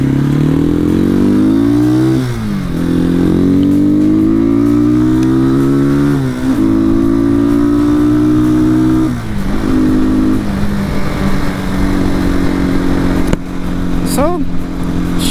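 A Janus Halcyon 250 motorcycle accelerates through several gears on an open road, its engine note climbing steadily and dropping at each shift, loud and continuous with a rider talking over it.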